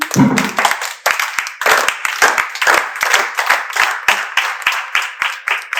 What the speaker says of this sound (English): Please lead us in the proper JCI applause as we put our hands together for the JCI Nigeria Senate Vice Chair